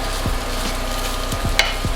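Overnight rice frying in a pan for fried rice, a steady close sizzle with a few scraping stirs of a spatula against the pan and a brief clink, no talking.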